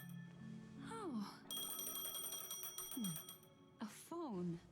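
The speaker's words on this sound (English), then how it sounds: "A phone." In the video game Honkai Star Rail, a phone rings with bright repeated electronic chimes, interrupted by short gliding tonal blips from the game's interface.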